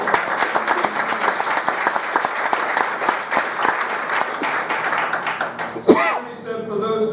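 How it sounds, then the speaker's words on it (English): A high school graduation crowd gives the parents a sustained round of applause, dense clapping rolling on steadily before tapering off near the end, where a brief thump and a voice follow. "let's give your parents another round of applause and thanks for everything that they have done for you"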